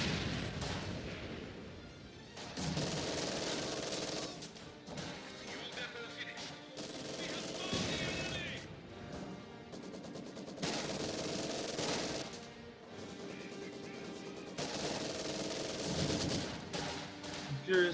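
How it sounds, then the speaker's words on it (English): Machine gun bursts and mortar barrages from a Company of Heroes 2 winter battle on the Semoisky map roll on almost without pause, with loud, dense rattling and repeated booming impacts. "Furious fighting still going on in the center. A lot of mortar barrages going down."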